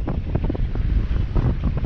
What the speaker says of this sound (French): Ça souffle bien là.